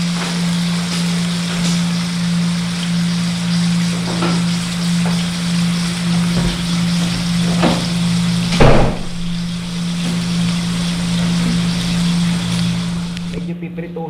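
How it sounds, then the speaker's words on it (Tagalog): A steady low hum runs under faint crackling sizzle as Bicol express ingredients with coconut milk, chili and shrimp paste sear in a pan, with a few soft clicks and a louder knock partway through. "Hindi naman prito-prito, medyo sear lang ng konti, pero medyo brown."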